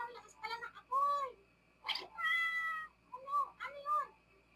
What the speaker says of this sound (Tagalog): May pusa sa taas ng puno.